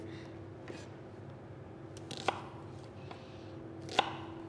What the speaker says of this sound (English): So I'm going to use 1 onion and cut them into dices, large dices.